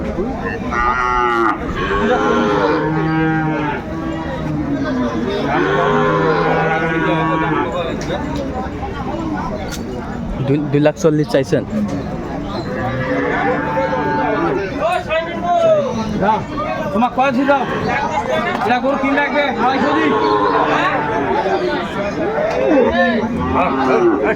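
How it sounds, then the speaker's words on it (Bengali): Dairy cows and calves moo repeatedly, long drawn-out calls overlapping at close range, with people chattering in the background throughout, at a cattle market in Aftabganj, Dinajpur. "চমৎকার গ্যাভি এবং বাচ্চুর দেখছিলাম আমরা এখানে"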